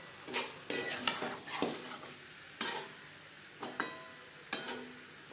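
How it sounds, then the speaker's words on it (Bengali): A spoon stirs spices with potato and pointed gourd in a pan over high to medium flame, giving a series of soft scraping and clinking strokes with light sizzle between them, fairly quiet and irregular. "হাই টু মিডিয়াম ফ্লেমে দু তিন মিনিট নাড়াচাড়া করে নেব"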